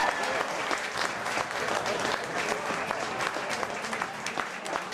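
Rugby crowd at a Selkirk home match in the Scottish Premier 1 cheering and applauding a Selkirk try, a dense, steady roar of clapping and shouts sustained throughout at full volume.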